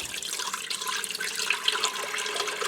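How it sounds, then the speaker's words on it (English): Four cups of chicken broth are poured into an electric pressure cooker, a steady close splashing gush of liquid that runs unbroken for a few seconds without talk. "I'm going to start by dumping in 4 cups of chicken broth"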